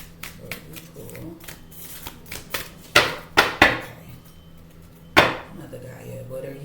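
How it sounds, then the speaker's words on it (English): A deck of cards being riffled and shuffled, with soft rapid flutters and a few sharp snapping bursts, close up. "Shuffle these up a little bit."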